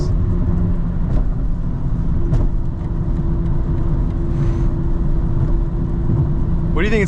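A BMW M340i xDrive with a custom XHP tune accelerates from inside the cabin, a steady, loud engine drone and road roar running throughout with people talking over it.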